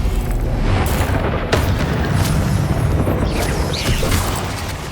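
A Confringo fire spell blasting in the Hogwarts Legacy video game, heard as loud, dense booming explosions and rumbling bursts that run nearly the whole time with no pause.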